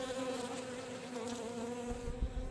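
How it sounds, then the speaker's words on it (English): Dense buzzing of many bees swarming around an opened hive during a frame inspection, a steady loud drone that fills the air throughout and thickens slightly near the end. "bees again."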